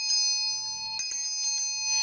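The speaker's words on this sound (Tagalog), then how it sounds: "ito pong ating bell na nagtataboy ng malas at nagwo-welcome ng swerte" A good-luck bell rings with clear, sustained metallic tones and a fresh strike about halfway through, heard close up and alone.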